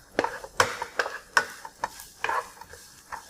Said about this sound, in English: Stir fry it a bit.